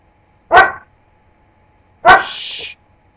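A puppy gives two short, loud barks about a second and a half apart, the second trailing into a brief higher yelp, heard alone indoors with no talk.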